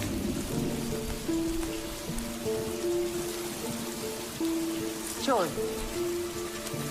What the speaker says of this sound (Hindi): तुम इसलिए बारिश की बूंदें पीती हो?